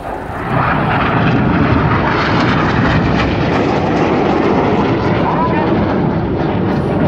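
RAF Red Arrows jets roar loudly and continuously overhead while flying a formation roll at an air day display, a sustained close engine rush filling the whole stretch.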